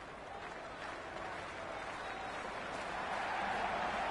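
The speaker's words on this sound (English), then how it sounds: "the ball hasn't even been bowled yet, and this crowd is already making it hard for me to be heard." Dense, steady crowd noise fills a cricket stadium ahead of an India versus Australia warm-up match, a continuous roar of cheering and scattered clapping that swells slightly toward the end, with no voice on top.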